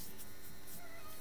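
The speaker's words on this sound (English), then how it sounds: "If you could hear my cat in the background," A house cat meows faintly in the background, a couple of brief, soft calls over quiet room noise.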